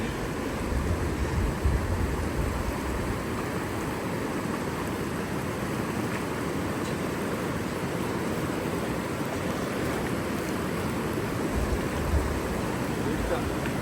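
A swollen river rushes past a riverside camp in heavy rain, a dense, continuous roar of water filling the whole stretch, steady and close, with some voices now and then under it.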